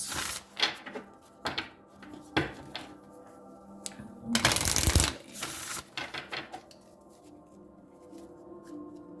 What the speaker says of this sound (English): I'm just gonna pull a couple of last minute guidance cards here, see what else comes out.